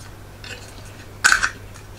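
A brief metallic clunk and rattle as a Primus Eta Spider camping stove settles into its windscreen, with quiet room tone before and after.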